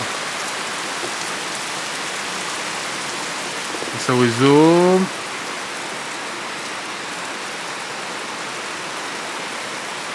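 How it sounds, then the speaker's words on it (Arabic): Heavy rain pours steadily during a thunderstorm at Flachau in Salzburg, Austria, a dense continuous hiss throughout, with a brief voice speaking midway over the downpour. "شوف المطر، شوف البرق."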